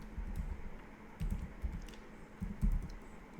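Python code is typed on a computer keyboard, a close run of uneven, soft key clicks and thumps with short pauses between bursts.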